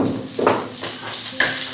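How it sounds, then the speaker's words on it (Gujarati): Frozen peas tipped into a hot pan with half-cooked carrots, giving a soft sizzle with a couple of brief rustling bursts as they land, close and moderately loud, no speech. "હવે નાખીએ છીએ ફ્રોઝન કરેલા આપણા વટાણા."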